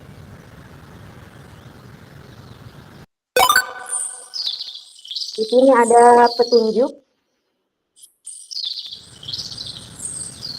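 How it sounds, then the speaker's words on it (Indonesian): Recorded birdsong plays during an online teaching presentation: bright, repeated chirps and tweets come in bursts between stretches of someone speaking, with short silent gaps around them. "memasukkan audio berupa suara kicauan burung itu supaya kita lebih seperti berada di alam"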